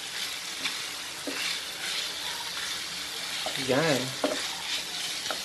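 Chicken sizzling and browning in a hot frying pan, a steady crackle with occasional stirring scrapes, while someone talks briefly over it.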